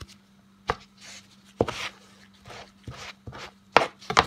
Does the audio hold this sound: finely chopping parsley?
yes